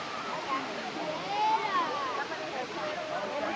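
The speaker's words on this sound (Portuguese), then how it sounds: "Olha que cachoeira linda, ó. Muito grande." The Lago Azul waterfall roars as a steady broadband rush of falling water, close and continuous, with people talking over it.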